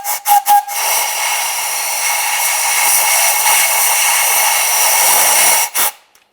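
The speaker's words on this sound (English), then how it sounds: "Now we'll use some compressed air inside the port where our ignition coil was and where the spark plug is" Compressed air blasted into the spark plug port of a 2003-2011 Mercury Grand Marquis, a few short puffs followed by a loud, steady hiss lasting several seconds, then a final brief burst.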